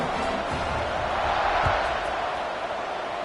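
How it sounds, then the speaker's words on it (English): A stadium crowd at a Texas A&M college football game buzzes after a touchdown, a dense continuous roar with scattered shouts and claps rising and falling, with a voice faintly under the noise. "this crowd is buzzing after that last score"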